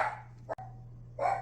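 Dogs bark nearby in two short bursts, one at the start and one at the end, with a quiet gap between them and a low steady hum underneath.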